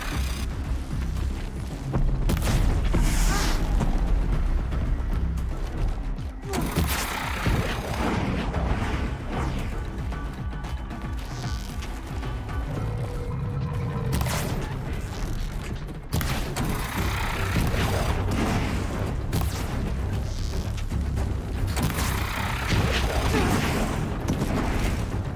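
In the Horizon Zero Dawn video game, incendiary shots and explosions go off in repeated loud booms and bursts over mechanical noise for about 25 seconds, with occasional talk underneath.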